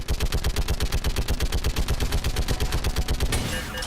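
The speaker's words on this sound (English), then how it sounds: "MJ, they are firing rockets at your shadow." Loud, fast rhythmic automatic fire from a mounted turret in Mass Effect 3, evenly spaced rapid shots continuing throughout with a brief burst of hissing noise near the end.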